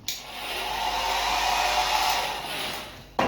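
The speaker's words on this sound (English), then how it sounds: "that's your hair dryer" A hotel bathroom hair dryer runs with a steady, close whooshing roar for about three seconds before a sharp click or bump at the end.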